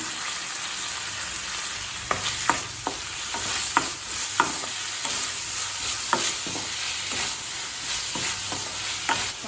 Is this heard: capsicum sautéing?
yes